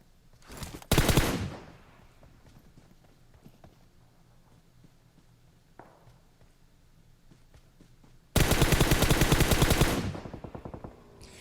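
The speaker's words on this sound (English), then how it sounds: "Definitely some shots behind" Gunfire in the PUBG Mobile battle royale game: a short burst of rapid shots early, scattered faint single shots and footsteps, then a long loud automatic burst near the end.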